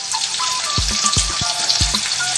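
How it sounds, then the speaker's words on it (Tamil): Onions sautéing in a pan while cooking a cauliflower masala, a steady broad sizzle running throughout with a few low thumps of stirring, close and alone without talk. "பெரிய வெங்காயத்தையும் சேர்த்து இந்த மாதிரி வதக்கிறோம்."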